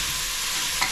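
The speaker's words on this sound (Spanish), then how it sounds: "como está caliente, está friéndose la cebolla" Onion and pork frying in a hot pan for arroz con chancho, a steady, dense sizzle close by with a few small pops near the end and no voices.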